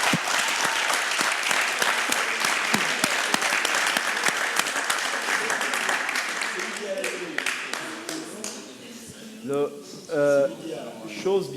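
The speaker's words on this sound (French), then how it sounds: "ça demande vraiment des applaudissements" A studio game-show audience breaks into loud applause after a correct answer, dense clapping fading out as a voice begins speaking over the tail.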